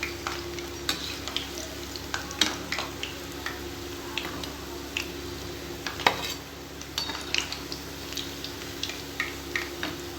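Kara bondas deep frying in hot oil, a faint steady sizzle broken by scattered clinks and taps of a utensil against the pan, no one speaking.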